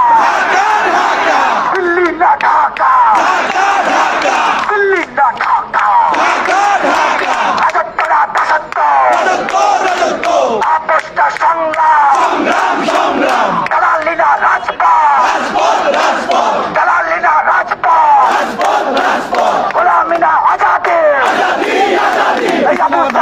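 Protest rally in front of the Prothom Alo office in Dhaka, a large crowd chanting slogans loudly in rhythmic call-and-response waves that run on without a break, voices massed and close.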